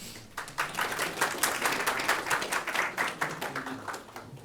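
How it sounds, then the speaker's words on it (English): Scattered audience applause at an academic session on Tibetan and Mongolian cultural history, moderately loud with individual claps distinct, fairly steady for a few seconds and then thinning out. "So let's give a round of applause for her."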